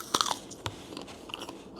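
Crisp bites into a crunchy winter jujube fruit, a close, sharp crunch at the start followed by a couple of quieter crunches of chewing, with no talking.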